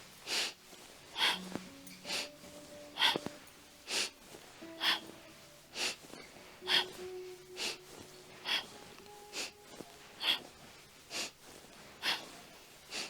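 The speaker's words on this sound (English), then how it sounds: "So inhale through the nose, exhale round." Rhythmic yoga breathing, long inhales through the nose alternating with exhales, repeated about a dozen times at a steady pace, close and fairly soft, with faint background tones and no talking.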